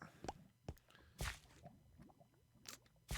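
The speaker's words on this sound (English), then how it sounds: "Now you can hear the lava bubbling and churning" Lava bubbles and churns in Minecraft, irregular wet plops and squishy pops coming in separate bursts over a quiet background.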